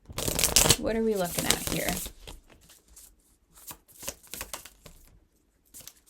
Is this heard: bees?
no